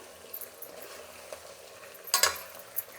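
A spoon stirs oil-fried brinjal curry for Andhra-style nune vankaya kura, with soft scraping and low sizzling throughout and a brief louder clatter near the end; no one speaks.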